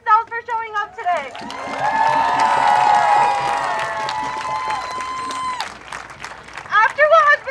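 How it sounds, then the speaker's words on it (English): Outdoor rally crowd in San Diego bursts into applause and cheering after a short stretch of speech, the clapping and shouts holding loud and steady for about five seconds before a voice resumes talking. "So I want you all to give a round of applause for yourselves for showing up today."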